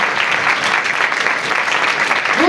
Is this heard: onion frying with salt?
no